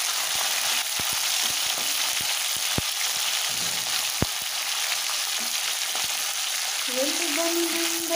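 Spinach, eggplant and vegetables fry in a pan with a steady loud sizzle, while a spoon stirs with intermittent scraping taps; a faint voice comes in near the end.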